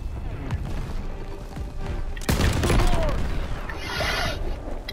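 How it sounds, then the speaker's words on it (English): Gunfire and explosions in the World War II shooter Call of Duty: WWII crackle and boom through a dense battle soundscape, with a heavy blast in the middle and a soldier's voice shouting over the din. "They're shooting at me, Sarge."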